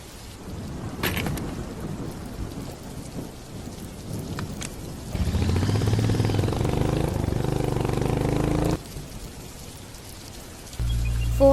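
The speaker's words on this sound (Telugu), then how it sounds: "ఈ వర్షం ఏమో ఆగి సావట్లేదు." Heavy rain pours steadily while thunder rumbles through the storm, and the downpour swells louder midway before easing, then surges again near the end.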